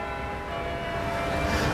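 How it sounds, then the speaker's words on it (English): Church bells of Lincoln Cathedral ring out across the historic city, a steady wash of overlapping tolling tones that swells slightly louder toward the end, with no talk over them. "cathedral bells are telling me it is"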